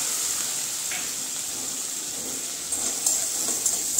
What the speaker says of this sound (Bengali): এই যে দেখেন হালকা করে আমি ভেজে নিয়েছি পেঁয়াজ আর রসুনটা